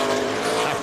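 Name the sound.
race car tires spinning off the corner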